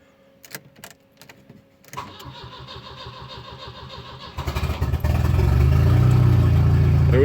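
A car engine cranks and starts after a fuel pump repair: a few faint clicks, then several seconds of steady starter churning that catches into a loud, close, steady idle.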